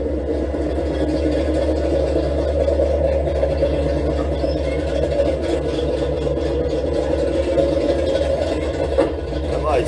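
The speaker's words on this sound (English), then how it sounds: "I'd like to think it's got a quick open exhaust or something. It's got no exhaust on it. Open headers, maybe. Definitely loud." A 1983-1986 Chevrolet Monte Carlo SS idles with no exhaust or open headers, giving a loud, steady, close-up rumble that keeps a low throb going for the whole stretch.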